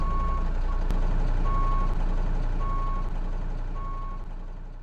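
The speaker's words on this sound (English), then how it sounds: "Place gear selector in R, reverse, and check operation of backup." Husky 2G vehicle's backup alarm beeping in reverse gear, four evenly spaced beeps over a steady low truck engine rumble.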